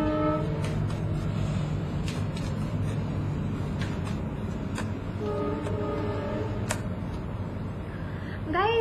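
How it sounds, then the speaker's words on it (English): Train rolling past with a continuous rumble and several horn blasts, moderately distant, under a steady background wash and no speech. "Sorry about the train, guys."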